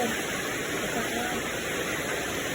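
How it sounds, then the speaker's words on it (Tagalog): Heavy rain pouring hard enough to flood the area, a dense, steady hiss of water at close range, continuous and unbroken throughout. "ang lakas ng ulan guys"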